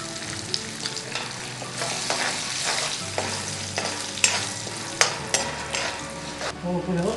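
Spices, asafoetida and dried red chillies sizzle in hot tempering oil for an eggplant chutney, a steady crackling fry close by with occasional sharp spatters and stirring scrapes.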